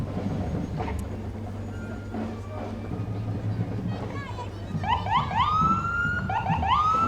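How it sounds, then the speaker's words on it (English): A Brewster ambulance in a Christmas parade in Quincy sounds rising and falling siren wails that grow clear partway through, over a low engine rumble and nearby talk. "Here's a more modern Brewster ambulance."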